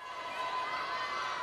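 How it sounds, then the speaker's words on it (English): Crowd cheering and shouting at an all-girl youth cheerleading competition, a steady, loud wash of many voices that carries on without a break. "You can hear the crowd."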